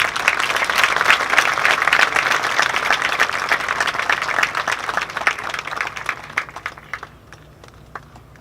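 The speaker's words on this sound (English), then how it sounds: "Would you please," Audience applause at an Assyrian Memorial Day commemoration, dense, steady clapping from a sizable crowd that carries for several seconds, then thins to scattered claps and fades near the end.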